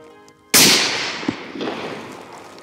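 A single rifle shot fired at a fallow deer calf on a hunt, one sharp, loud crack that rolls off into a long, fading echo, with a smaller knock following soon after.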